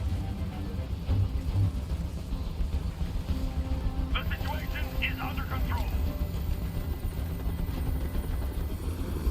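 A steady, loud helicopter rotor drone hovering overhead in Detroit: Become Human, continuous throughout while a voice speaks over it.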